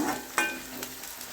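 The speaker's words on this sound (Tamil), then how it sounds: "நல்லா வதங்கட்டும். நல்லா கோல்டன் கலராக வரட்டும்." Chopped onions sizzle steadily as they sauté in a hot pan, with a few sharp scraping clicks of a utensil stirring them.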